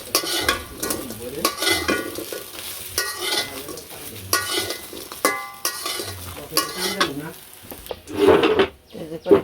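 Curry with fried lentil balls being stirred in a wok in a village kitchen, a steady scraping stir over a soft sizzle, with a louder clatter of the spoon near the end.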